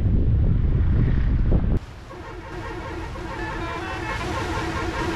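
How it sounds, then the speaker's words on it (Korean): Warm wind on a Nile river cruise boat buffets loudly in a deep, rushing rumble for under two seconds, then drops away to a steady, droning motor hum with no talking. "지금 따뜻한 바람 부는 거 아시죠?"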